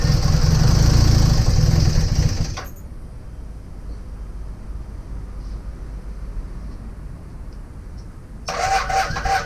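A Honda Superdream (Hawk) motorcycle engine, a project bike with an oil leak, runs loud and close for a couple of seconds, then cuts to a quiet low rumble before revving back up near the end.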